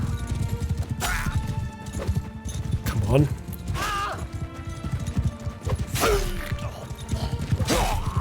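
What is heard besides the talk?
horses galloping in Mount & Blade II: Bannerlord video game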